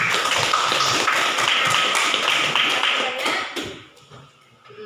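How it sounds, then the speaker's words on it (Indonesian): A classroom audience breaks into a burst of dense, steady applause that stays loud for about three seconds and then thins out to a few scattered claps before fading. "Kita berikan aplaus dulu."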